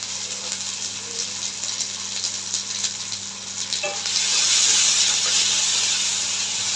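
Spice paste with turmeric and green chilli paste sizzles in a pan for a thin salted hilsa curry, a steady soft hiss that grows louder and brighter near the end, with no talking.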